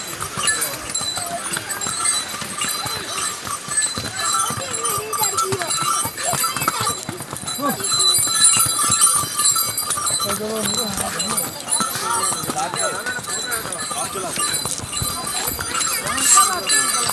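Horse hooves clip-clop steadily on a mountain trail near the glacier snow line on the ride to Hemkund Sahib, Uttarakhand, close and continuous, with a voice talking over the steps.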